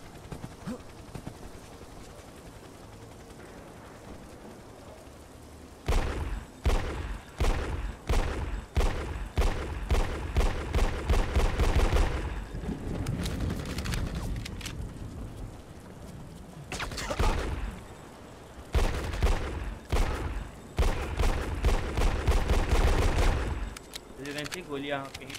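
Rapid bursts of gunfire in a video game crackle in dense clusters, pausing briefly before erupting again, with scattered single shots and a voice talking in between.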